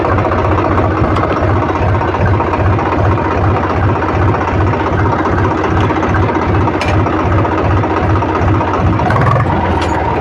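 A Swaraj tractor engine idles in neutral, a loud, close, steady diesel chug with a fast even low pulse and rattling vibration, running alone without talk.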